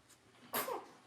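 A single short sneeze bursts out once, faint and quick, against a quiet room background.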